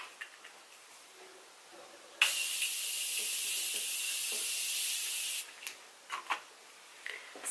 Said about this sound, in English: we're going to set our face with the Morphe Continuous Setting Mist